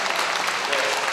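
A brief burst of audience clapping at a Korean book launch event for a documentary, dense and even for about a second.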